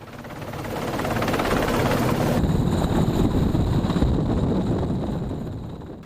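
A helicopter lifts off from an aircraft carrier deck after refueling, its loud rotor and engine roar filling the scene up close, with wind buffeting and a steady high whine emerging partway through.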